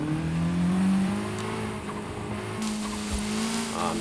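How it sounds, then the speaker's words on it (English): Car engine with turbo in Forza Horizon 5, the 1973 Alpine A110 1600S, droning steadily and loud throughout, with a sharp shift in tone near the end as the engine note rises. "Nice turbo sound."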